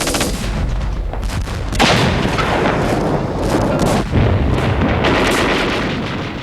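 Heavy gunfire and artillery fire from a Second World War island battle, with troops from British India under fierce fire; dense, loud, continuous booms and rattling bursts with no voices.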